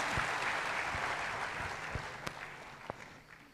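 Applause from a seated audience of a business gathering in Ahmedabad, a steady dense wash of clapping that gradually tapers, with a few sharper individual claps near the end and no voices.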